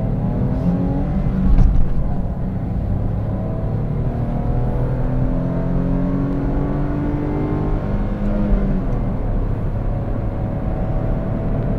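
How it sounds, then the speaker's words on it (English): A Smart Fortwo Passion engine at full throttle in fifth gear on a highway drones steadily from inside the car, with rising engine tones and a constant road roar, and no voices. "The power becomes painfully obvious as we're basically, full throttle, fifth gear."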